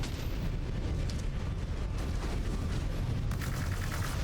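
Incoming missile explosions in the video game MechWarrior 5: Clans form a loud, continuous rumble of blasts and crackling booms with no letup and no talk.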